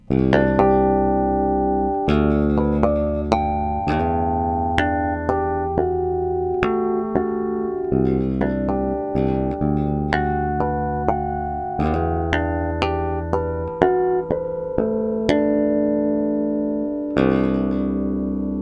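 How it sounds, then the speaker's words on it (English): Bell-like harmonics on a Cort GB Modern bass guitar ring out one after another, each plucked note sustaining and decaying, forming a slow melodic pattern with no talking. "So gives you an idea of the harmonics sound on this bass."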